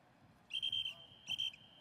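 A referee's whistle at a women's wrestling bronze-medal bout, two sharp shrill blasts, the first longer, over a low arena murmur.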